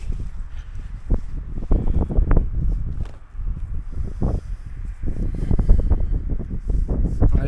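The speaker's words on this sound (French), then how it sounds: "Le vent il n'a pas changé." Gusts of wind blow strongly outdoors on a cold day, buffeting the microphone in uneven roaring bursts throughout.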